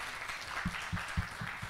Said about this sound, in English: give a big round of applause to the artists